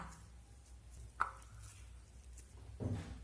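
Semolina and flour dough kneaded by hand in a bowl: soft, quiet squishing and pressing with a sharper slap partway through, close and faint, with no talking.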